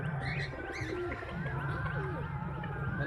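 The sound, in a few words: racing pigeon cooing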